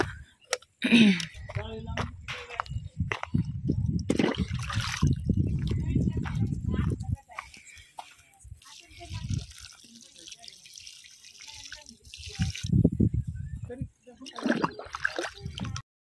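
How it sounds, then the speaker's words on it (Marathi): Water is poured onto a vine planted in a vegetable field, splashing and trickling steadily for several seconds, with a second shorter pour later, while people talk nearby. "इथं आईने जी वेल लावले त्याला पाणी घालू."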